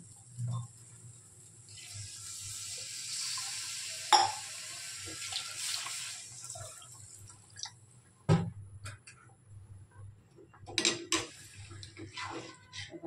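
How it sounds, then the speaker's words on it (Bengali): Water splashes and trickles into a pan of curry on the stove, with clinks of utensils against the pan and brief scraping sounds as the pouring fades, fairly close and moderately quiet. "চলো জল দিয়ে দিই"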